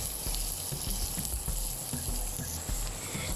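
Ginger, garlic and onion frying in a pan for salmon-head sinigang, a continuous close sizzle with scattered pops and light clatter of stirring, no one talking.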